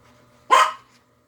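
A dog gives a single sharp, loud, close bark in a quiet room just after feeding, short and abrupt, with near silence around it.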